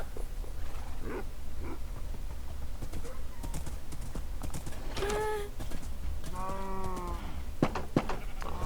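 Horses in the Minecraft video game clip-clop in steady hoofbeats, with a couple of whinnying calls and other animal noises mixed over a constant game background.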